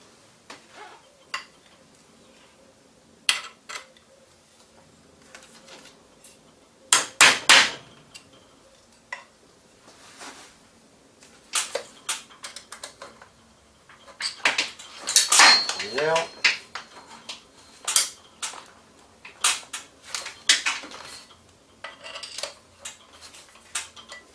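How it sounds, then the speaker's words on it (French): Metal pins being removed from a Remington 870 Marine Magnum trigger group with a screwdriver produce scattered sharp metallic clicks and taps, some louder clanks midway, with someone talking between them. "il nous reste à retirer les tiges métalliques qui retiennent le bloc détente"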